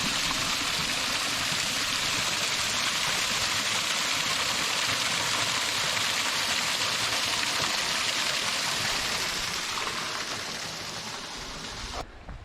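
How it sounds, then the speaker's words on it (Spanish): Arroyo Toro Muerto, a mountain stream near Cerrito Blanco in the Córdoba hills of Argentina, rushes in a loud, steady broadband wash of flowing water close by, easing off slightly near the end. "Desde acá nace el arroyo Toro Muerto."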